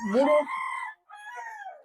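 Desi village chickens and roosters on a small farm give a loud, close crow and clucking call, then a second drawn-out call after a short pause.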